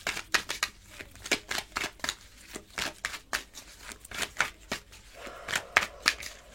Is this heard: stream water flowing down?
no